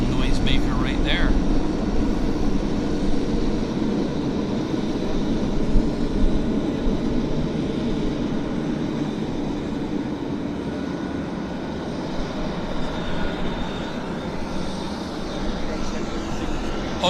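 Loud heavy airliner taking off from Vancouver Airport, a thick continuous engine roar that stays strong and gradually eases, heard from outdoors at some distance.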